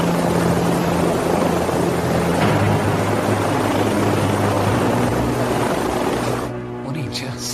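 A helicopter lands nearby, its rotor and engine a loud, dense, continuous roar that drops off abruptly near the end, leaving a quieter hum.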